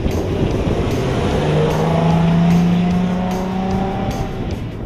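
A Nissan 370Z convertible with a 3.7-liter 332-horsepower V6 and seven-speed automatic is driven hard around an autocross track in a video game. A loud, steady engine drone rises and falls in pitch with shifting revs, and tire noise runs underneath.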